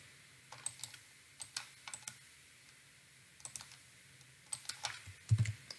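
Computer keyboard being typed on while diagnostic software is set up, quiet irregular clicking keystrokes in short bursts with a few louder taps, close by with no talk.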